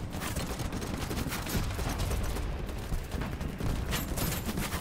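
Dense, continuous gunfire in the shooter game BattleBit, a muffled wall of overlapping shots and bursts heard at moderate level with no clear gaps.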